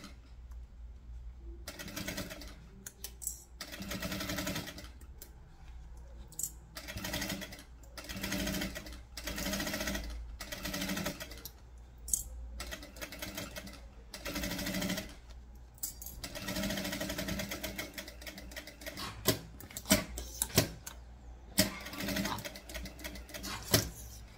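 A sewing machine stitches a baguette handbag, running in repeated bursts of rapid mechanical chatter separated by short pauses, close and steady throughout.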